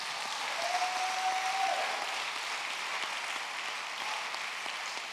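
A church congregation applauds steadily at moderate volume, a short burst of cheering rising briefly near the start before the clapping continues evenly to the end.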